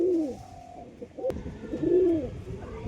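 Restless pigeons give clear, close throaty coos in two rolling phrases, with soft rustling and a brief sharp click between them.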